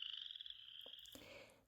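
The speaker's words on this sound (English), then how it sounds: "listening for the breeding calls of male frogs like this little guy" A male chorus frog gives a breeding call at a vernal pool, a rising creaky trill like a finger run along a comb, close and clear over faint background.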